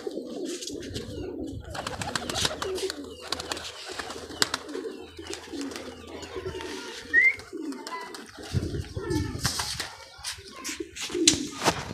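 Pigeons cooing and fluttering nearby, with soft low coos repeating over rustling background noise and occasional faint voices.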